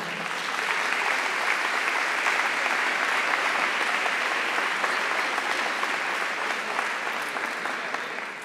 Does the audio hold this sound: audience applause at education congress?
yes